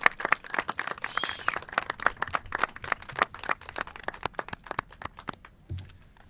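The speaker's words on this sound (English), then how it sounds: "Please give all of these people and organizations a round of applause now" Outdoor crowd applause at an Arbor Day ceremony, a moderate burst of scattered hand claps that thins out toward the end, ending with a soft low thump.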